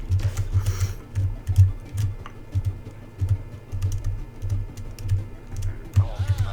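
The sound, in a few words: typing on a computer keyboard playing a video game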